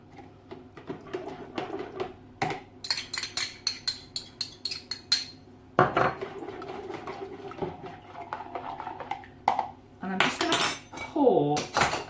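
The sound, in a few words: mixing saffron and lemon juice into stock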